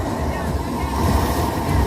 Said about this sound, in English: I made the water come out.